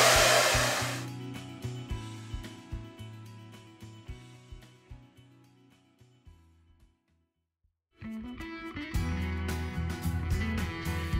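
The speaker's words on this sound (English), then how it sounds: "So I'm gonna continue blow drying, and you guys can go ahead and watch and see." A handheld hair dryer blowing steadily on hair at close range, its airflow flickering as it moves, cutting out for about a second before roaring back on.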